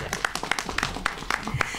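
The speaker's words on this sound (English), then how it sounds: "I have to clap." Sharp, separate hand claps at a press conference on a school anti-violence hotline, about six evenly spaced claps in under two seconds, close and fairly quiet.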